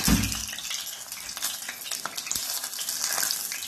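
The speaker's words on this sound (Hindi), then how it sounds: "इसमें तेल गर्म हो जाएगा और धीरे धीरे इसको तलना चाहिए ताकि कच्चा नहीं रहे" Chicken pieces deep frying slowly in hot oil, a steady crackling sizzle with dense bubbling that runs throughout at moderate loudness, with a brief louder rustle at the start.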